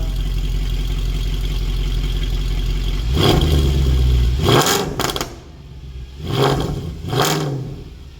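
A Mercedes C63 AMG fitted with Alibaba headers, idling cold and then blipped a few times, its deep rumble swelling into short rising revs that fall back to idle.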